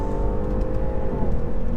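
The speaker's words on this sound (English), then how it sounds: "good response from the engine" A 2019 BMW 530e plug-in hybrid sedan accelerating from inside the cabin, a steady, loud engine drone with rising harmonic tones that ease off toward the end, with no talk.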